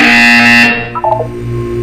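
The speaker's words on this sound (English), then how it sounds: "When you hear the buzzer, look up at the ceiling." A loud, harsh electronic buzzer in the video game Portal 2 sounds for under a second, then cuts off, leaving a low hum and a few short tonal blips.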